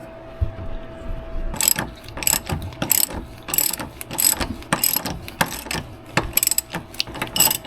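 Ratchet wrench turning a nut, a crisp, close series of rapid clicking bursts repeated in uneven strokes over a quiet background.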